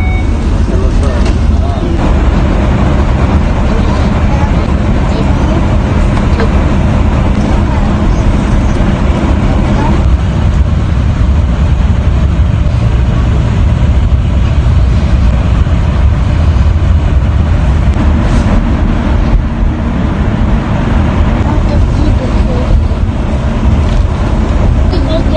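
A bus travelling from Sharjah to Mecca rolls on with a continuous loud road-and-engine drone heard from inside the cabin, unbroken for the whole stretch.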